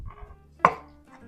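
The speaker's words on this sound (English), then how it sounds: "now we're going to chop the tomatoes" A knife cuts tomatoes into small pieces on a board, landing one distinct, close chop among quieter handling sounds, with no voices.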